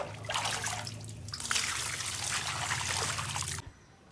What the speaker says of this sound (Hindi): अपने स्विमिंग पूल को जो है ना पानी से भर देता हूँ